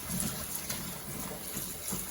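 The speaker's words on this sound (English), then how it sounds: "the first time is going to be very hot, so I'm just going to pour the water away" Hot water poured away from a cooking pot during a rinse, giving a steady splashing gush into a sink that runs throughout at moderate volume, with no voices.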